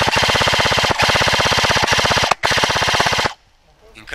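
Airsoft gunfire from enemy players in a woodland game at Jasnica pri Ribnici, Slovenia: loud, rapid automatic bursts that run almost continuously with one short break, then cut off sharply into near silence.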